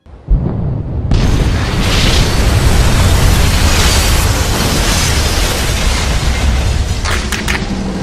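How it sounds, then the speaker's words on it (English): A loud explosion aboard the hospital ship Britannic in 1916: a sudden heavy boom after a brief quiet start, swelling into a sustained, roaring broadband rumble that stays loud for several seconds. "a loud explosion shook the ship"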